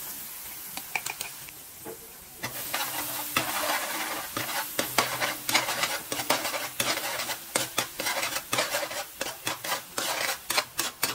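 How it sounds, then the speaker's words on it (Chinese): Minced garlic and shallots frying in hot oil in a wok, a quiet hiss that bursts into loud crackling sizzle, then repeated rhythmic scraping of a spatula stirring, growing more regular toward the end. "热锅里倒油，把搅碎的蒜米和小葱头加进来爆香"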